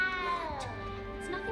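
A small frightened cat in Hogwarts Legacy gives one drawn-out, wavering meow that bends downward, close and clear over quiet game ambience.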